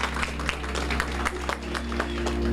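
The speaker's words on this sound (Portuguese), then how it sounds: "eu queria uma salva de palmas para o pessoal da Casa Thomas Jefferson" A room of people applauds a visiting group at a morning briefing, a brisk, moderately loud clapping with sharp individual claps over a low steady hum, building slightly toward the end.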